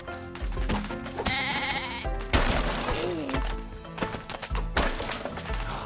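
Repeated goat bleats in the Goat Simulator video game, several loud wavering cries mixed with thumps and game effects over a steady background, heard up close with no talking.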